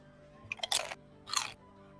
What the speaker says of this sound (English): Why is there the loudest crunching sounds in my ear holes right now?